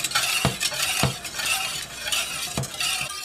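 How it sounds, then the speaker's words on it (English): A utensil stirring white sauce of milk thickening in a pot, steady soft scraping with a few sharp clinks against the pot at irregular intervals, close and moderately loud. "Grandpa is stirring the white sauce now"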